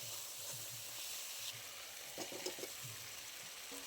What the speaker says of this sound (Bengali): দিয়ে খুব ভালো করে মশলা কষিয়ে নেব।